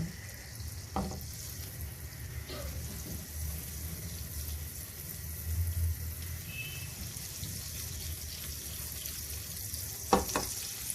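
Butter and oil sizzle in a hot pan as cumin seeds go in, a steady low frying crackle with a few sharp clinks and taps of utensils standing out, no voices.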